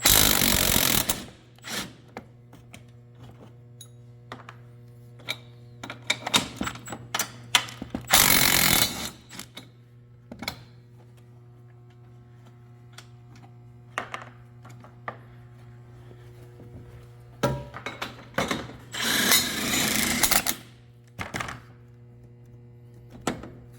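Ratchet wrench and socket working loose 18 mm upper shock bolts on a Can-Am X3 side-by-side, intermittent bursts of ratcheting clicks and metallic clanks over a steady low hum, close by, no talking.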